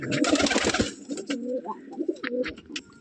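Light Biscuit pigeons coo in soft, throaty bursts, close by, with a flurry of rustling early on and no talking.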